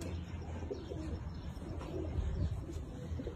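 Pigeons cooing softly at a pigeon club gathering, low repeated coos close by amid faint background chatter.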